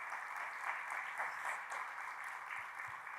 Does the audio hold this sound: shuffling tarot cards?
no